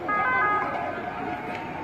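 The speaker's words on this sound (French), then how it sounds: "Nous entendons tous l'ambulance." An ambulance siren wails close by as the vehicle slows before a closed gate at a hospital, a steady tonal siren filling the short stretch with some background noise.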